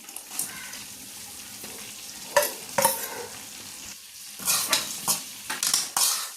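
Dates stirred into a pickle mixture in a pan, with a spoon scraping and clinking against the metal over a light sizzle, in uneven strokes close by.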